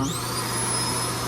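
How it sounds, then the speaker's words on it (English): Built-in floor vacuum in a 2025 Forest River R-POD 203 travel trailer runs with a steady, even motor whine and airflow hiss, constant and close throughout. "It has a built-in vacuum."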